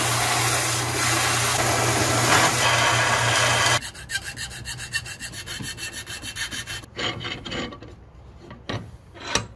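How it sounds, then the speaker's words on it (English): Aluminum stock for a combat robot claw is cut close up, first a loud continuous grinding rasp, then a stretch of rhythmic back-and-forth sawing strokes that trail off, with no voices. "So I'm going to cut this out of some aluminum and get it mounted in there."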